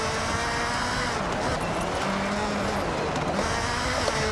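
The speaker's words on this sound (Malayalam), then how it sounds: "വണ്ടി വരുന്നുണ്ടേ." A car drives past in a video game, heard as a steady broadband engine and road roar that holds loud throughout, with no clear rise and fall of a single pass.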